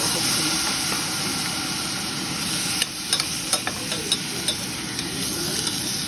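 Bottle gourd stirred in a pan with ginger garlic paste, sizzling steadily under a bright frying hiss, with a run of distinct spoon scrapes and knocks against the pan toward the end; no talking.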